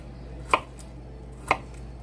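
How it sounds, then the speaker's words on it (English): Half an onion being chopped for roll-up lasagna, two crisp knife strikes on a cutting board about a second apart, near and otherwise quiet. "So I'm just chopping. This was a half onion."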